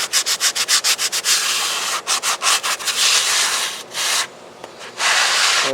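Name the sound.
gently sanding styrofoam on an RC airplane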